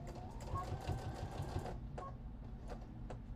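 A home sewing machine running a long seam through a thrifted vest and scarves, its motor whirring and needle ticking steadily for over a second before stopping, with someone talking over it.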